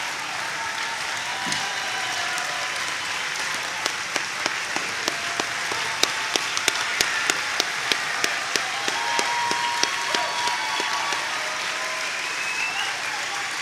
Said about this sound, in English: thank you for that warm congratulatory clap